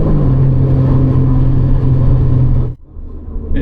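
A modified Suzuki Cappuccino kei car's big exhaust drones loudly and steadily, with a deep, even engine note that cuts off abruptly near the end, leaving quieter rumble and a brief high squeak afterward.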